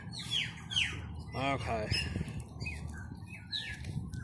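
Outdoor birds squawk and chirp in repeated sharp calls close to the microphone, with a burst of rapid warbling in the middle, while someone speaks briefly.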